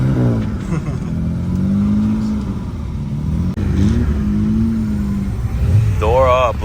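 A supercar engine revs loudly nearby, climbing and falling in long pulls over a constant rumble, while people talk over it.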